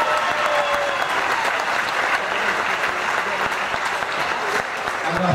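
A big crowd applauds after a European K1-rules kickboxing title bout, a dense, loud, continuous roar of clapping that fills the whole stretch, with a voice faintly underneath.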